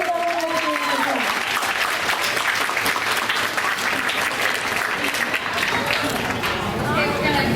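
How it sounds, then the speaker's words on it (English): Sustained applause from an audience at a school board meeting, dense and steady for several seconds, with a few voices mixed in over the clapping. "Let's give everyone a round of applause."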